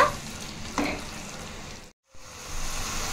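Spinach mixed with chilli powder and paste being stirred in a hot pan, giving a steady broadband sizzle with scraping movement and a brief near-silent break before the frying resumes.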